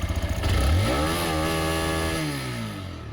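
A TVS Raider 125 motorcycle engine idles with a quick pulsing putter, then revs up sharply to a loud, rising, sustained whine that holds and slowly eases off, very close.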